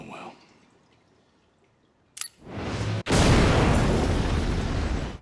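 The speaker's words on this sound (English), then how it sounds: "Butcher decides to set off the explosives" C4 explosives detonate in The Boys: after near silence and a sharp crack, a massive roaring blast erupts and sustains as a loud, dense rumble of debris and fire.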